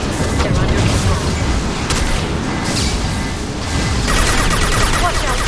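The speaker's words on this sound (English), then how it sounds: "Watch out, flashbangs!" Flashbang grenades and gunfire during a firefight in Mass Effect, with sharp booms and crackling shots over a dense battle din and voices talking throughout.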